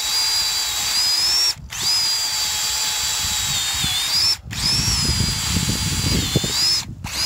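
A power drill bores a 2-inch hole about 18 inches deep into rocky, unfrozen dirt under snow, whining loudly and steadily in close, continuous runs broken by two brief pauses.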